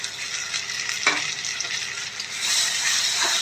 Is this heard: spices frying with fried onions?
yes